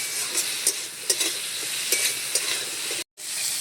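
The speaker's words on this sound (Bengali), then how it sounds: "ঢাকাটা খুলে নিয়েছি, এবারে বেশ সুন্দর করে কষে নেব।" Fish curry sautéing in a pan with turmeric, a steady close sizzle broken by the scrape and clatter of stirring, and a brief dropout near the end.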